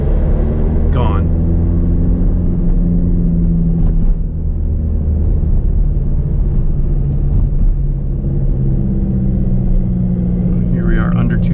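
A TDi diesel engine running at low RPM with gearbox rattle: a loud, continuous low rumble with a rattling texture that holds steady throughout.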